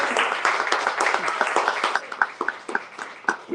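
Applause at a campaign kickoff party for an Oklahoma Senate candidate, a small group clapping in a scattered, uneven burst that thins into a few separate claps.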